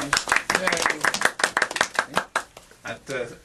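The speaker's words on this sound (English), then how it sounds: "how about a nice round of applause for your dad there?" A small group claps for a dad during a radio station interview, a run of quick, irregular hand claps at close range, with voices overlapping.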